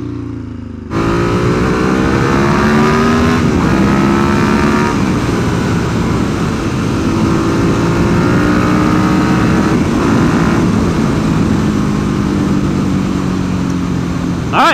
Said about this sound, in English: I've just been riding a motorcycle.